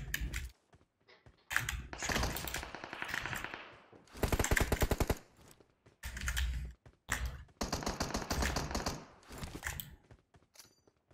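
Bursts of rapid automatic gunfire in the mobile battle game PUBG Mobile, sharp volleys of rattling shots separated by short silences, fairly close and loud, with no talk over them.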